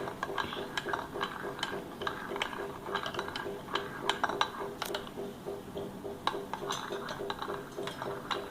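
A spoon stirs cappuccino in a cup, clinking repeatedly against the sides in a steady, uneven rhythm of sharp taps, close up with faint room noise behind.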